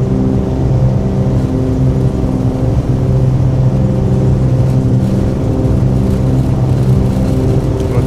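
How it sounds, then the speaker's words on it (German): A loud, steady droning aircraft engine in a flight simulator game, a Cessna 414, hums continuously without a break, a constant whirring motor tone with no voices over it. "Motor ist so laut."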